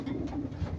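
Pigeons in a loft give a few soft, low, throaty coos close by, with a steady murmur of other birds behind them and no talking.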